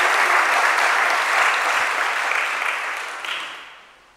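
Mourners at David McDonald's memorial service in Auckland, New Zealand, clap together in a dense, sustained round of applause that holds steady, then gradually thins and fades away toward the end.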